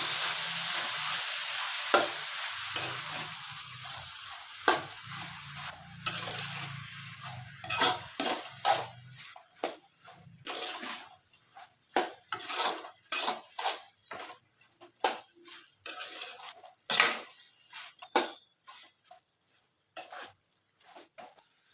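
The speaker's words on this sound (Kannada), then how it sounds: "ಹಾಕಿ ಚೆನ್ನಾಗಿ ಮಿಕ್ಸ್ ಮಾಡೋಣ" Vegetable stir-fry with cooked moong dal being stirred and mixed in a pan, a steady sizzle under repeated scraping and clinking of a spoon against the metal, the strokes coming in quick irregular bursts.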